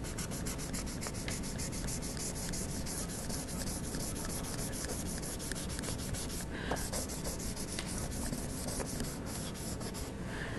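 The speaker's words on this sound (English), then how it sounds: "As I erase, I'll need to change surfaces of my ruler or my eraser." A rubber eraser scrubs charcoal off drawing paper, a close, steady rasping rub that repeats in quick back-and-forth strokes without pause.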